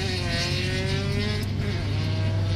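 A drift car's engine revs loud and close with a steady, buzzing harmonic drone, its pitch edging up slightly as it holds throughout.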